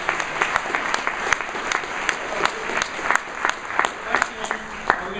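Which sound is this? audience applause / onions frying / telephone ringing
audience applause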